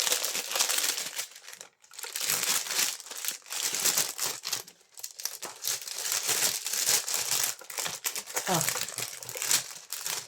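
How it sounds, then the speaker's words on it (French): Wrapping paper crinkling loudly as a package is unwrapped, dense crackly rustling in bursts with short pauses, close to the microphone. "Donc, on va le déballer. Attention au bruit."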